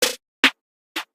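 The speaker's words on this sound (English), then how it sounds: "After that, I did some snare rolls." A drill-beat snare roll programmed in FL Studio: three bright, crisp snare hits spaced roughly half a second apart, each short and punchy with a quick decay, dry and up front with nothing else playing.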